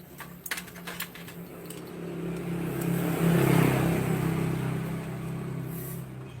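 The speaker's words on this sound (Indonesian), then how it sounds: "Ini motor makin panas makin loyo." Yamaha RX King two-stroke motorcycle with a non-original piston, running weak when hot. The engine idles and rises into a steady rev at mid-clip, close by, with a few clicks and knocks early on.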